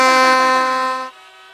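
A loud, blaring horn blast holds for about a second, then cuts to a fainter fading tone.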